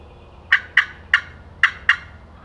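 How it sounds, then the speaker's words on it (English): Wild turkey gobbling outdoors, five sharp gobbles in quick succession from a moderate distance, each a brief rattling burst over quiet woodland background. "Listen for the gobble."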